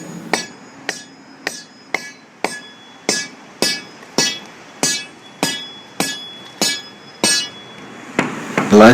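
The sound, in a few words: sounding rod tapping concrete deck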